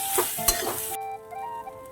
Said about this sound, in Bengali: সোয়াবিনগুলো ভালো করে ভাজা হয়ে গেছে এবার তুলে নেবো